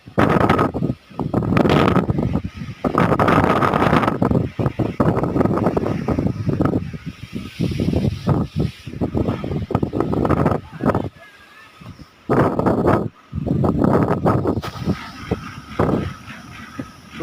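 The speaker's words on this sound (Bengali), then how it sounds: "চারিদিকে আকাশ কালো হয়ে আসে এবং প্রচণ্ড বাতাস শুরু হয়, যার কারণে রাস্তার ধুলা সব উঠতে শুরু করে" Strong dust-storm wind roars across a road beside rice fields under a darkening sky, a loud continuous rush with gusty surges and brief lulls.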